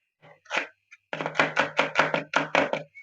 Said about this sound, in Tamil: இப்ப சின்ன சின்ன பீஸா கட் பண்ணிடலாமா?